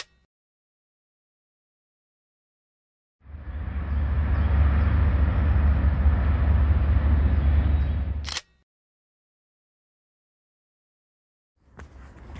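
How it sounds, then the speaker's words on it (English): A train passes in the distance near the Potomac River and the C&O Canal, a steady low rumble that rises abruptly, holds for about five seconds, then cuts off, with no talking. "I can just hear the noise of the passing by train."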